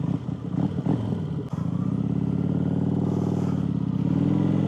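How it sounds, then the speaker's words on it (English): Cruiser motorcycle engine droning steadily and loud while riding through hills, with a brief dip near the start and a continuous low rumble throughout, no talking. "we're going to take a nice little ride in the hills, and we're going to talk about that while we ride this cool cruiser"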